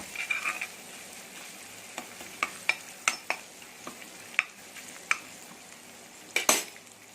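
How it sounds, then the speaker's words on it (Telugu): Ginger garlic paste fries in a pan for a prawn fry, giving a steady soft sizzle punctuated by sharp spatula scrapes and clinks against the metal, close and moderately quiet. "అల్లం వెల్లుల్లి పేస్ట్ పచ్చివాసన పోయే వరకు ఫ్రై చేయండి"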